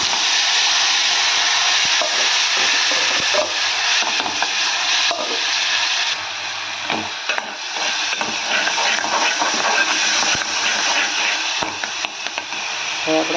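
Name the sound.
gravy added to hot oil with mustard seeds frying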